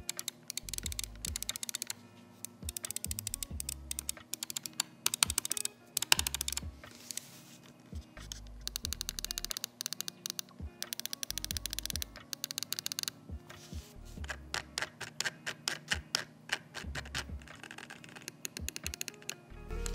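Cooler Master MM720 mouse with LK optical switches, clicked in rapid irregular bursts, crisp and close over a quiet background with no voice.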